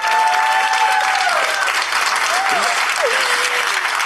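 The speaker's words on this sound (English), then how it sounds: "let's give a round of applause to each team as they come on stage" A crowd gives loud, sustained applause for youth food lab teams at a competition final, a continuous roar of clapping with brief voices rising over it.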